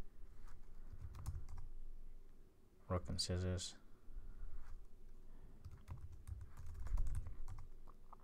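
Quiet clicks of typing on a computer keyboard come in short scattered bursts under a man's speech while he plays a rock-paper-scissors game he has programmed in Java.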